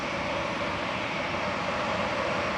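An EasyJet Airbus A320, a 12-year-old A320 Classic, sits ready for departure at Manchester Airport, its jet engines giving a steady, broad roar at moderate distance.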